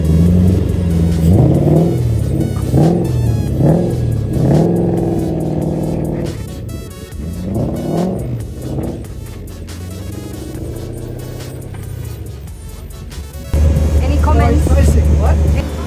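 Nissan S13 fitted with a Toyota 1UZ V8, loud and close, revving in repeated rising bursts, then driving with a steady engine drone and a heavier roar near the end.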